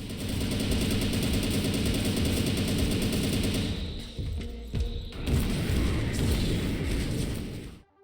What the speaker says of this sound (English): The shotgun will fire off several shells in quick succession, whereas the machine gun can shoot out a grenade